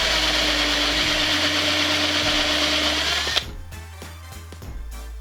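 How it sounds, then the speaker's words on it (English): A steel step drill bit grinds loudly and steadily through a hole, enlarging it, then cuts out abruptly, leaving a few faint knocks and clicks in the quiet that follows. "use the step bit to enlarge it to the size I want"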